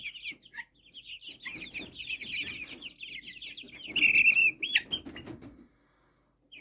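A flock of chickens clucks and chatters constantly nearby, with a burst of louder squawks and wing flapping before it quiets.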